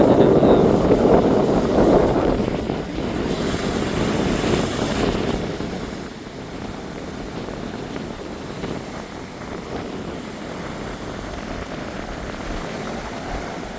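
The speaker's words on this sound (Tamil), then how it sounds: "இந்த காற்றின் வேகம் வந்து மிக பலமாக தான் இருக்குது" Strong wind buffets the microphone on a fishing boat at sea, a loud rushing roar early on that eases into a steadier gusty noise, with waves churning underneath.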